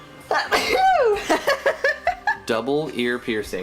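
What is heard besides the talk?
sneeze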